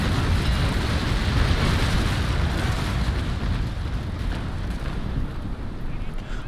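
Broadside raking fire in Naval Action: a loud, continuous rolling roar of cannon blasts that blur into one dense rumble, staying heavy for several seconds before easing slightly.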